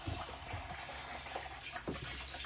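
A garden hose poked through a window screen runs water steadily into an indoor lettuce farm stand, a continuous close gushing and splashing with no voices.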